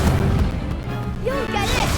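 Accio and Incendio spells cast in Hogwarts Legacy: loud, dense bursts of crashing and thumping magic impacts, then a bright whistling tonal sweep, packed tightly into two seconds amid game voices.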